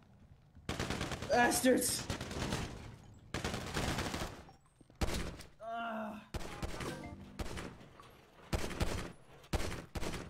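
Bursts of automatic gunfire in a GTA roleplay police shootout, with shots fired through a window, come in repeated loud clusters, heavily overlapped by tense shouting from several players.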